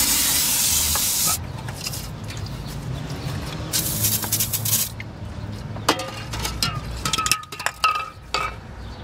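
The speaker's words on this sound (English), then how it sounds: "So I'm going to do that with a little bit of brake cleaner." Brake cleaner sprays into an engine cylinder of a 2007 Honda CR-V with a blown head gasket, a loud close hiss in long bursts, followed by fainter hissing, drips and small clicks of handling.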